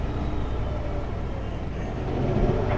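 A logging truck's air brakes hiss and squeal over a steady rumble of engine and road noise, with thin whining tones rising near the end, fairly loud and close.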